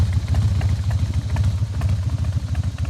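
A 2000 Harley-Davidson Softail Standard idles up close with a deep, loping, uneven potato-potato rumble, steady and loud throughout with no talking.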